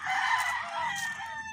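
Farmyard chickens belonging to the speaker's sibling cluck close by as a rooster crows loudly over them in a brief, busy burst.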